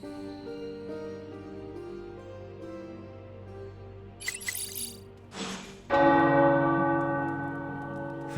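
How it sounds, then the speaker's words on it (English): Church tower bells in the Marvel Midnight Suns video game ring out loud and close, with a swelling clang toward the end over a low game ambience. "The tower bells are ringing."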